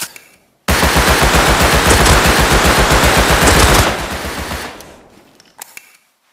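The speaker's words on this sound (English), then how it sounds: "He shot me or he shot him?" Automatic gunfire in Rust on console: one long, loud, rapid burst of shots lasting about three seconds, then a fading tail and a couple of short, sharp clicks.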